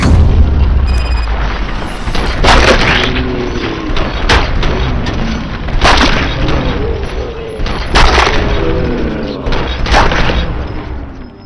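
Heavy gunfire and booming explosions from RoboCop: Rogue City ring out in repeated loud blasts over about eleven seconds, with shots and echoing booms overlapping in a dense combat din.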